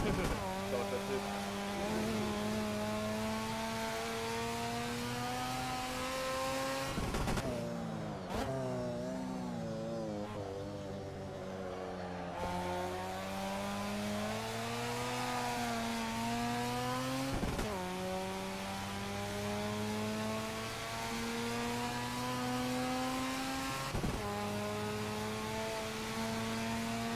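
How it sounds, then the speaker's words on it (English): Tuned Mazda RX-7 drifting in Assetto Corsa on overheating tires at Barbagallo: a high, buzzing rotary engine revs up and down over and over, with sharp shift cuts and continuous loud wailing throughout. "Really hard to drift this thing when the tires are overheating."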